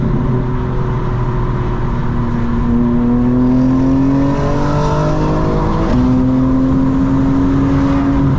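Steady car engine hum from inside a 2025 BMW M4 Competition on a highway, its tone gradually rising as it speeds up, continuous and close with road noise throughout.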